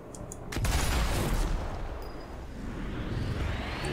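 Gunfire from the video game Sniper Elite 4 in a harbour level: a sharp, loud shot at the start, then a dense, rumbling roar of sustained fire and blasts that fades slightly and builds again.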